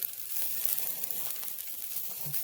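Deer burgers sizzle steadily in a hot pan, a continuous close crackle and hiss with no talking.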